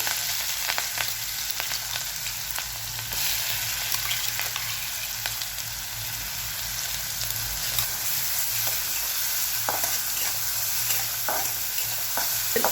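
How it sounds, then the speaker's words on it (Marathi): Green chili and garlic paste, ground in a mixer, fries in hot oil with cumin and mustard seeds, giving a steady, loud sizzle with frequent scraping and stirring clicks throughout, no talking. "हिरवी मिरची आणि लसूण चांगलं परतून घ्यायचंय"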